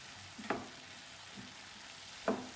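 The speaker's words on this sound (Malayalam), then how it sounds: "ഇളക്കി കൊടുക്കാം." Chayote stir-fry (thoran) being stirred in a pan over a quiet background, with two distinct scraping clatters of a spoon against the pan and a faint softer one between them.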